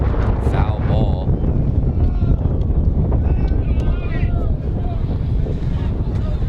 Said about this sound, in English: Beautiful day, but a very windy one